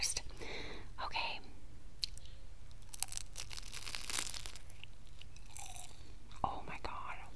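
Crunchy baklava of phyllo dough and pistachio nut mixture is bitten and chewed up close, giving crisp crackling bites and flaky crunches in uneven bursts, with soft whispered talk between them.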